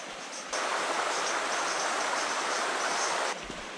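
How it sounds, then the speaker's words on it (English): An outdoor waterfall rushes with a steady, broadband hiss close by. It starts suddenly, holds constant for about three seconds, then cuts off. "now let's go and enjoy this second amazing waterfall"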